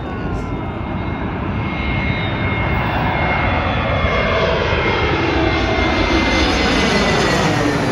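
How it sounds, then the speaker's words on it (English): A Jetstar Airbus A321 passes close overhead while coming in to land, its jet engines a loud, steady roar with a falling whine that fills the whole clip. "A Jetstar Airbus A321 just about to land. right above us."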